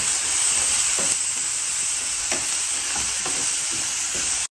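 Desert truffles sauté in ghee with black pepper, making a dense, even sizzle close up that barely changes, with faint stirring scrapes underneath, until it cuts off abruptly at the end.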